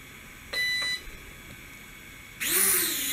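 A small practice drone gives a couple of short electronic beeps, falls quiet, then its motors spin up into a loud, buzzing whine close by.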